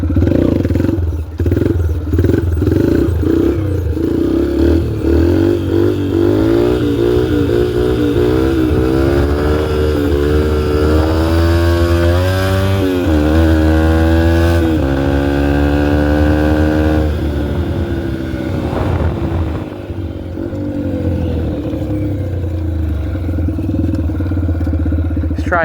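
A dirt bike engine revs repeatedly up close in a neighborhood, loud and rising in pitch through several throttle blips, settling into a rough idle toward the end.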